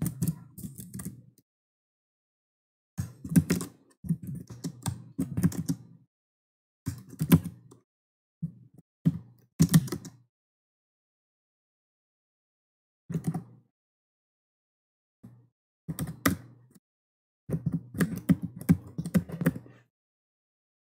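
Computer keyboard typing out text, in short irregular bursts of quick clicking keystrokes separated by silent pauses, close and fairly clear with no talking.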